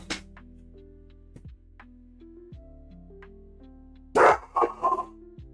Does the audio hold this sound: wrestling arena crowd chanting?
no